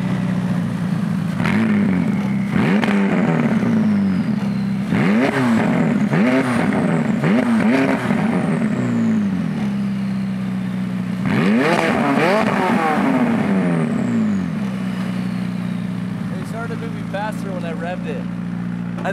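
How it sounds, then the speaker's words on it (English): A McLaren 600LT engine revs hard in repeated sharp bursts, climbing and dropping in pitch between pauses, loud and close, with people talking and cheering underneath. "You should rev your car and throw some flames."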